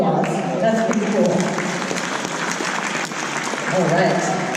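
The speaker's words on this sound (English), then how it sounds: "Give yourselves a round of applause." Audience applause at a dolphin show, broad crowd clapping sustained throughout while a presenter's voice carries over it on a loudspeaker.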